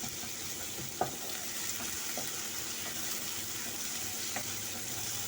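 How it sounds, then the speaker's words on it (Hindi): Quiet sizzle of steamed eggplant with ginger-garlic paste sautéing in a pan, a soft steady frying hiss broken by a few light clicks of stirring, heard close without talk. "सिर्फ हल्का हल्का सोते करेंगे हम इनको।"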